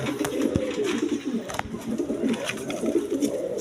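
Pigeons of various breeds at a sale, including Rajgolla pigeons, cooing in soft repeated low calls close by amid steady background chatter and bustle.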